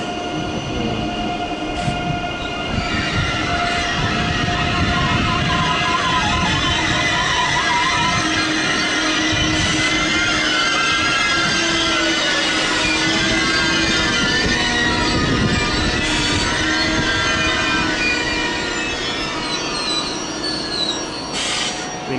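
An IC train pulls into Köln Hauptbahnhof with loud, steady rumbling and sustained high-pitched wheel squeal, plus intermittent clanks echoing under the station hall.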